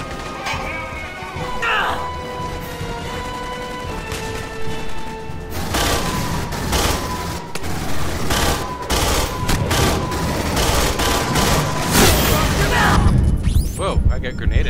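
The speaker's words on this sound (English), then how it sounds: "Whoa, I got grenaded." Gunfire and a grenade explosion in the video game Aliens: Colonial Marines, with dense bursts of shots and crashing blasts that build toward the end, under players talking.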